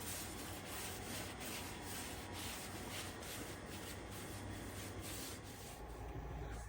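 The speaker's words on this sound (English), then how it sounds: "You got to scrape off a little bit of Permatex that was on there" Steady rubbing scrape of old Permatex gasket residue being worked off a brake drum on a 1950s GM 4104 bus, a continuous gritty abrasion with faint periodic strokes, close and alone.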